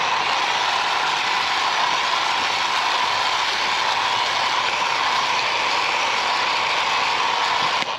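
Ryobi 18-volt battery-powered leaf blower pushing fertilizer back onto a lawn, a loud, continuous airy roar with a steady whine that holds for several seconds before cutting off at the end.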